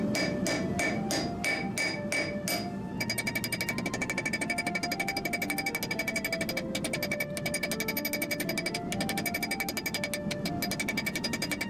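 Rapid, rhythmic hammer blows on hot steel while forging a Viking Age spearhead, a dense ringing series of close, loud strikes at a steady fast pace throughout.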